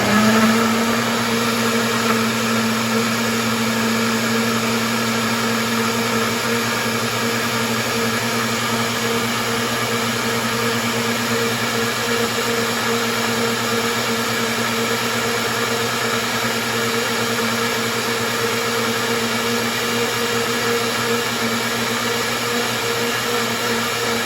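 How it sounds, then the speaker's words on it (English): A kitchen blender runs continuously on hot tomato salsa, a loud, steady motor whir with a constant pitch and no break for the whole stretch. "this blender is really good for high temperature food."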